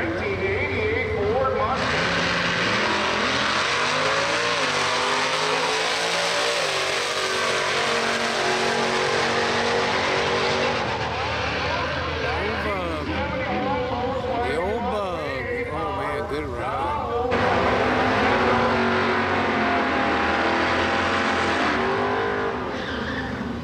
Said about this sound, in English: Running against Doug Lane, 1988 Ford Mustang